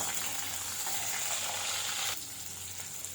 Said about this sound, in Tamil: பச்சை மிளகாவும் கருவேப்பிலையும் போட்டு அதையும் நல்லா வதக்கிக்கலாம்.